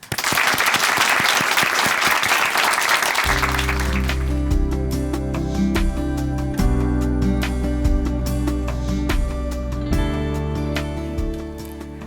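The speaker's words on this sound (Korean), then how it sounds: "박수로 맞아주시죠" An audience claps warmly to welcome a speaker at a Korean church testimony program. The loud, dense applause fills the opening seconds, then continues beneath music that swells in and carries on to the end.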